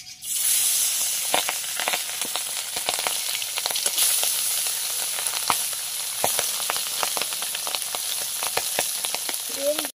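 Tangra fish frying in smoking-hot mustard oil in a wok makes a loud, continuous sizzle and hiss with small crackling pops, starting abruptly and holding steady to the end.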